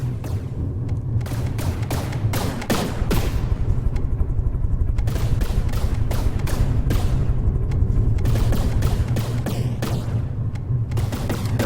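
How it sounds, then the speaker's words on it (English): Advanced custom cannons in a video game fire a massive, continuous volley of rapid booming shots, dense and loud throughout with barely a pause. "You can see it just firing away, a massive volley from those advanced custom cannons."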